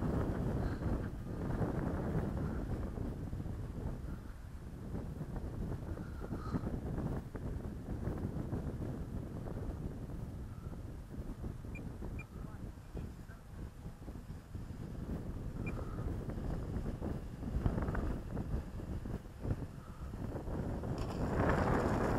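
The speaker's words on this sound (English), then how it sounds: "Fucking wind." Gusting wind buffets an outdoor microphone beside a Timber X aircraft during a rough landing day, a loud, continuous low roar that swells and eases for over twenty seconds with no speech.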